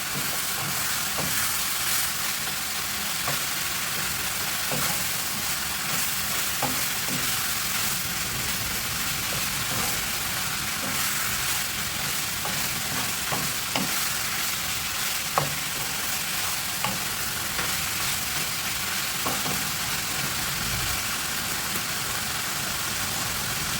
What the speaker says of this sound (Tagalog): saka natin ihalo-halo